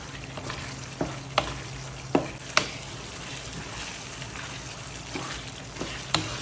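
Pasta being added to boiling water in a pot, with a soft, bubbling hiss broken by several sharp clinks and taps of utensils against the pot, close and without talking.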